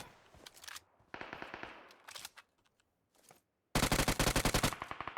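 Rapid automatic gunfire from the video game PUBG rattles in several loud bursts separated by short gaps, the final burst the loudest and most sustained.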